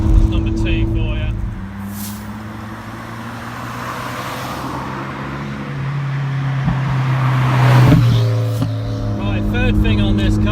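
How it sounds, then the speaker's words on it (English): Toyota MR2 Turbo running with a steady low engine drone, turbo whistle and exhaust pops near the end, loud and close, with a voice speaking over parts of it. "pops and bangs and the exhaust. I love it, and the turbo noise as well."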